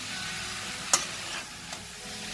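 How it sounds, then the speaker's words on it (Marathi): Mixed vegetables are stir-fried in a pan with salt added: a soft, quiet sizzle with one sharp scrape of a utensil and a fainter clink later. "पुन्हा परतवून घेऊया आपण हे सगळं।"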